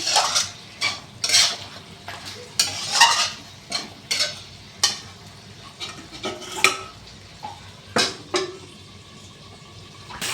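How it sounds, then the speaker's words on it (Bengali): Chicken kosha being fried in a pan is stirred with a utensil, giving repeated scraping and clinking strokes at an irregular rhythm over a low, soft sizzle. "ঢাকা দিয়ে কষে নিচ্ছি"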